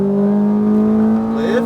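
Ferrari F430 at full throttle on a track, a loud steady engine drone holding pitch, then rising sharply near the end as it revs harder.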